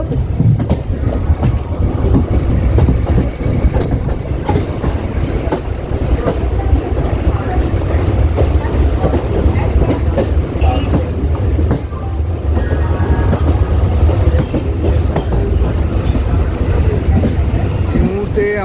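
A passenger train on the Howrah–Tarakeswar line rumbles steadily along the tracks, with a continuous low roar, rattling carriages and occasional wheel squeals, loud and close throughout.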